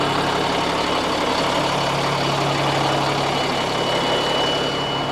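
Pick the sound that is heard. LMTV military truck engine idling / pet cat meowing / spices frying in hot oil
LMTV military truck engine idling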